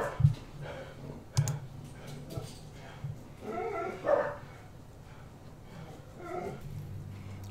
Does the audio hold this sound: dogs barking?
yes